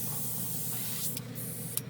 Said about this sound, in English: I like to spray it and see if there's any color coming out.